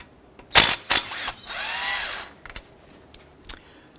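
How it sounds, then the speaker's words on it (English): A power tool with a 13mm socket spins out brake caliper bolts on a 2004-2009 Dodge Durango, giving a few sharp bursts and one sustained whine lasting about a second, close and loud, then brief clicks. "Using a 13mm socket, we're going to go ahead and remove this bolt here and this bolt here."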